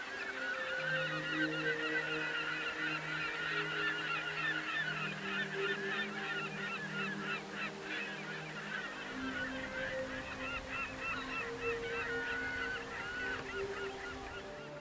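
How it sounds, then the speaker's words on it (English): Seabirds nesting on towering cliffs at the entrance to Heimaey Harbour, Iceland, keep up a continuous honking, clamorous chorus of many overlapping calls, heard at a moderate distance over a steady low drone. "seabirds nested in every crevice on the towering cliffs"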